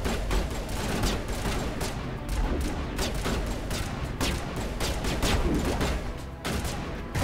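Dense, sustained gunfire from a firefight in Mass Effect Legendary Edition, repeated rapid shots and bursts filling the scene without pause, loud and continuous with no voices over it.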